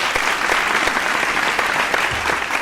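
An audience claps steadily, a dense patter of many hands applauding without pause.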